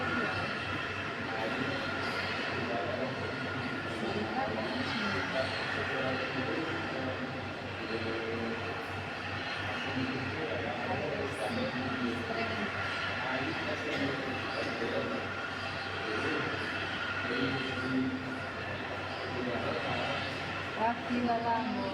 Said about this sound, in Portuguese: Esse carrinho só pra manobrar de avião.